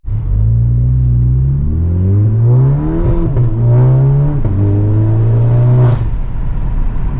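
Volkswagen MK7.5 GLI with a dogbone mount insert pulls hard under acceleration, its engine note rising in steady sweeps, then dipping briefly through smooth gear shifts before climbing again, loud and close throughout with no talking.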